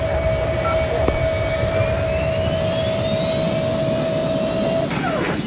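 Jet airliner taking off in the Airline Commander flight game, a steady loud engine roar with a rising turbine whine that climbs in pitch across the clip, continuous and close.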